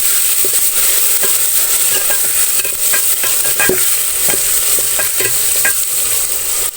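Tomatoes fry in a hot pan for restaurant-style chole, a loud, close, continuous sizzle with frequent rhythmic spatula scrapes and knocks against the pan, with no talking.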